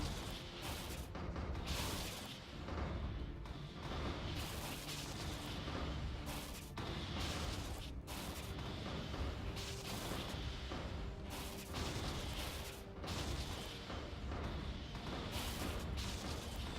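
Space fleet battle in Stellaris: a dense, unbroken barrage of missile launches and explosions, sharp booms and crashes stacking on top of each other at a steady fairly quiet level throughout, no voices.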